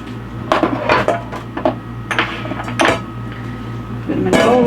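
Cut food being dropped into a bowl in a boat's galley kitchen, several clattering knocks and scrapes of dish and utensil against each other, close and fairly loud over a steady engine hum.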